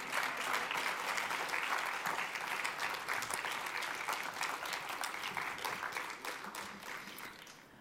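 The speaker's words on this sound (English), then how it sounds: "More clapping." A large crowd at a media prize award ceremony applauds a winner, a dense, steady wash of clapping that holds strong throughout and eases slightly toward the end.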